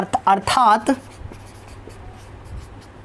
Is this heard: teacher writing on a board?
yes